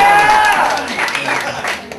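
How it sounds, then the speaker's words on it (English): Audience applause at a stand-up comedy show, a broad wash of clapping from the crowd that starts over a voice and carries on steadily for a couple of seconds. "I need an applause break"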